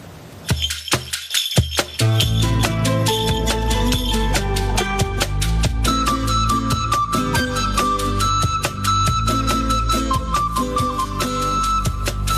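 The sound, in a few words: medieval-style remake of a pop song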